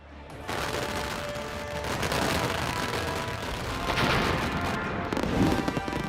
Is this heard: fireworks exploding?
yes